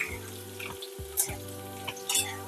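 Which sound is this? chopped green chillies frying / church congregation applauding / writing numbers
chopped green chillies frying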